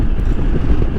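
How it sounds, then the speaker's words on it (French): Royal Enfield Himalayan motorcycle engine running while riding, a steady low rumble close to the microphone with wind buffeting over it. "Le bruit du moteur est assez agréable."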